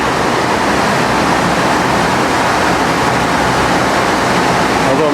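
Water pours steadily into vats in a Cambodian temple setting at Battambang, a dense continuous rushing splash, loud and close, unbroken for the whole stretch.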